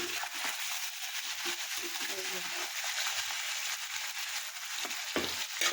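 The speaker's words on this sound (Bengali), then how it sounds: "এখানে আমার মাছটাও আমি ভাজিতে দিয়ে দিছি" Karfu fish frying in hot oil, a steady broadband sizzle that runs unbroken through the whole stretch, with faint bird calls and low background noise beneath it.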